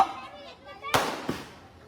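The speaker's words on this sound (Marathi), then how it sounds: "ते फटाके थांबवा थोडे आता झाले असतील तर" Firecrackers go off near a political speech rally in Mumbai, two sharp bangs close together amid a reverberant crowd and voice background.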